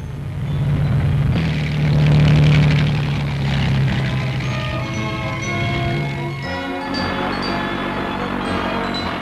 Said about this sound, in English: the Arado is a neat, low-wing monoplane with a single radial engine in a blistered cowling